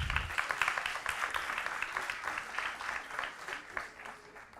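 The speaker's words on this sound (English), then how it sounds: "Let's give Alondra another round of applause" A roomful of people claps for an honored athlete at a board meeting, steady applause at moderate distance that gradually thins out toward the end.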